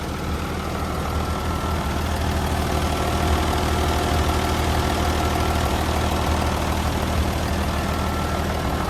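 A Komatsu WA470-5 wheel loader's 6D125 turbo diesel engine idles steadily and close by, a constant low rumble with a faint mechanical knock running through the whole stretch, with no voices.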